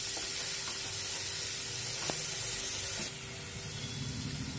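A spice paste for pabda fish curry fries and is stirred in a pan, a steady close sizzle with a couple of light utensil taps, the hiss dropping slightly partway through, no voices.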